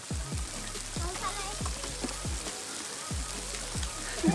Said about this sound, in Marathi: मस्त पाऊस चालू आहे